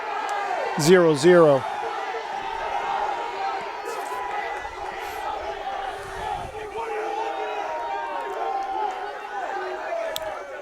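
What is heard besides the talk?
crowd cheering at a high school soccer game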